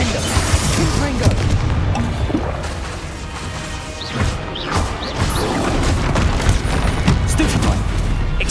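Spell blasts cast in rapid succession in Hogwarts Legacy, with a steady stream of crashing impacts, booms and whooshing bursts layered close together, under a voice calling out.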